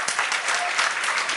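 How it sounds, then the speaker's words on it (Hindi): An audience at a happiness and wellness workshop session applauds, a dense, steady wash of many hands clapping together, loud and close throughout. "वो किधर भी ताली बजा देते हो बिना समझे।"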